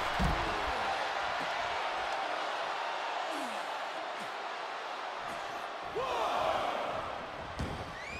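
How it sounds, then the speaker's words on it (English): Huge wrestling arena crowd roaring continuously at a loud, dense level, with whoops, a slam thud and surges of cheering, while a commentator talks over it. "The sound of this crowd is deafening, and he's asking for more."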